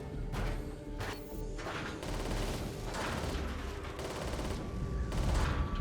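Gatling cannon and stubber fire rips out in the Warhammer 40,000: Freeblade video game, dense rapid automatic bursts in several long volleys with crashing impacts, loud and continuous.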